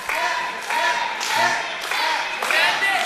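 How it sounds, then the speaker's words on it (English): An arena crowd roars in waves during a submission hold in the Evers vs. Strickland fight, a loud, dense wall of cheering and shouting that surges and dips every half second or so, with voices mixed in. "The crowd encouraging him to just tap."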